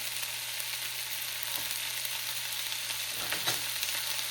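Salt, coriander-cumin powder and chilli are stirred into ivy gourd frying in a pan, with a steady close sizzle and a couple of soft spatula scrapes partway through.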